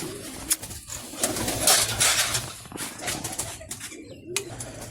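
Pigeons coo nearby while bursts of wing flapping rise and fall over a constant rustling background.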